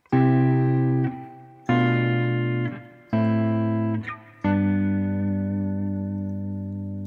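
Four sustained diatonic guitar chords ring out one after another, each strummed and left to decay, with a stepping-down bass under them and no talking.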